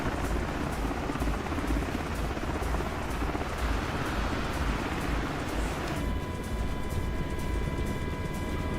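A helicopter hovers in Microsoft Flight Simulator 2024, giving a steady, dense rotor and engine roar that holds at a constant level throughout, with a higher whine joining partway through.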